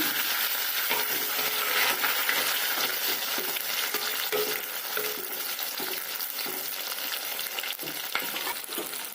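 Halved shallots fry in a pan with popped mustard seeds, a steady close sizzle with faint crackles and occasional stirring scrapes, no voices.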